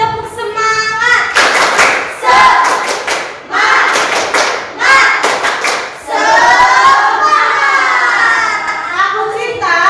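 Schoolchildren in an Indonesian classroom perform a rhythmic clapping chant, bursts of claps alternating with shouted chanted lines in a lively, patterned sequence, loud and close.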